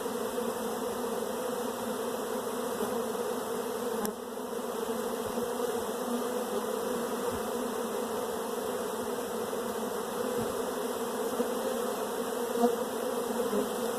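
A steady, dense buzz of many honey bees over a brood nest in an open hive, close and continuous, with no talking and a faint tap partway through.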